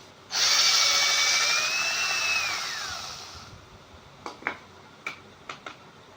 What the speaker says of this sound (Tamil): வுட்டுக்கு நான் அதிகமாக வுட்டில் தான் ட்ரில் பண்ணுவேன்